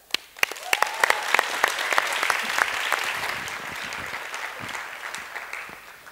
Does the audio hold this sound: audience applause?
yes